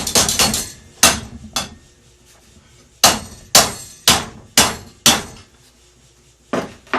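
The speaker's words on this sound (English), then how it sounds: "Using the ball peen side of my hammer. Give a little bit more curve." A ball peen hammer shapes a metal rose petal held in a vise: about a dozen sharp, ringing metallic strikes. A quick flurry comes first, then single blows spaced irregularly, loud and close, with no talking.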